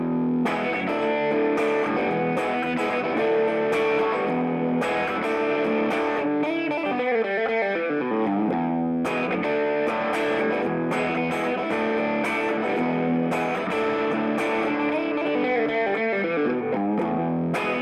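An electric guitar through overdrive, vibrato, Klon and compressor pedals plays sustained chords with a wavering, pulsing vibrato, bright and distorted throughout with no voices.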